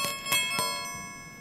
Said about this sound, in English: I also have this small bell